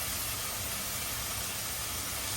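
Pieces of Padma pangasius fish frying lightly in oil give off a steady, even sizzling hiss that runs unbroken from start to end, with no voices.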